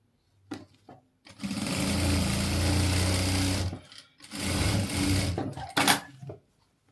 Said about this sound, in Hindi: अब ये यहाँ से नीचे का सिलाई है